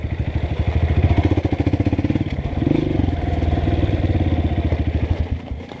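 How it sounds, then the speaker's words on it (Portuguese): A motorcycle engine runs close by on a dirt trail, loud and throbbing in a fast steady pulse, briefly surging before settling back to idle. "Vou desligar a moto pra não ficar esquentando muito"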